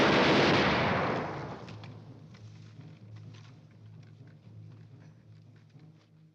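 A film firing squad's volley bursts out loud and sharp, then rolls away in a long, fading rumble of echoing gunfire, with no talking over it.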